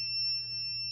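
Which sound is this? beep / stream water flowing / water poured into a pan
beep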